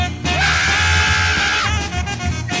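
A singer's scream in a West African psychedelic music recording, one loud sustained wailing cry held for over a second and then dropping away, with the band's instruments continuing underneath.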